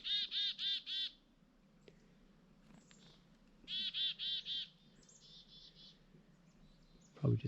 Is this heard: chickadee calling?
yes